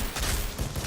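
Rapid gunfire in the video game Outriders, a quick cluster of loud, close shots in under a second, dense and punchy with no gaps of silence.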